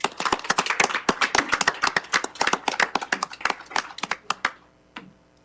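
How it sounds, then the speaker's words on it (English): A small group applauds at a city council meeting, with distinct individual claps forming a brisk, uneven patter that tapers off to a few final claps and then silence. "Let's give a round of applause."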